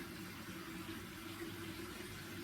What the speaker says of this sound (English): I use wet wipes, but they've got chemicals on, so I wash them first